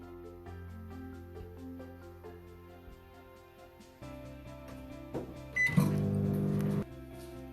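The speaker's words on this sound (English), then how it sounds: "we will microwave this till it melts" A microwave oven melting butter and chocolate: a faint steady hum with soft clicks, then a louder, fuller whir toward the end that stops abruptly.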